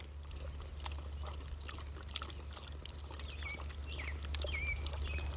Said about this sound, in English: I'm watering my dog.